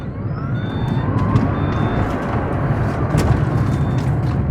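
A 2008 Tesla Roadster electric car accelerating hard, a loud, steady roar of road and wind noise with faint rising whine tones above it.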